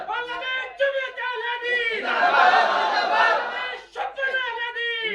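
A conference crowd answers a leader's call with a loud collective shout of takbir, a single chanted voice leading in, then a swelling roar of many voices, then the call repeated.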